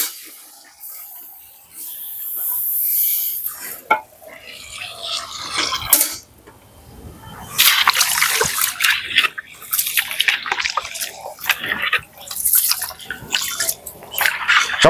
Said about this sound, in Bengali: মামা আমি চালটা দিতে, তুমি জলটা ঢেলে দাও।